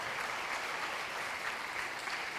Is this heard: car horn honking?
no